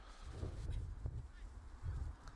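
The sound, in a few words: birds honking over a soccer field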